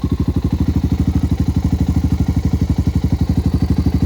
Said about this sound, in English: 350X here running in the background like a top, letting that idle for a little while